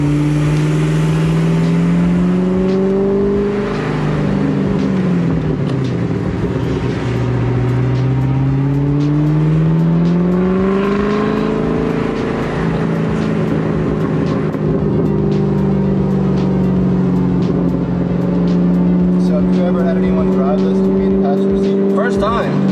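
A 2003-04 Mustang Cobra with its stock supercharged engine pulls hard and loud, the exhaust note rising and falling through revs with a high supercharger whine on top, while people talk inside the car.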